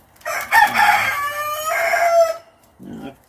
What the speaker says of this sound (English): if the damn rooster would shut up